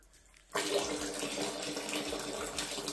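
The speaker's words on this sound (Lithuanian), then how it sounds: "Tai jau vanduo bėga." Water starts flowing from a newly connected shower at a country homestead with weak pressure, silence giving way abruptly to a steady close splashing stream that continues evenly to the end.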